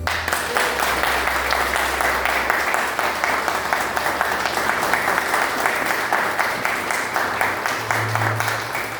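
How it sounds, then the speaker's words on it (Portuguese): Sustained audience applause at a spiritual talk, dense steady clapping filling the room for several seconds at a fairly loud, even level, with a low hum underneath. "agora as palmas de agradecimento por um irmão"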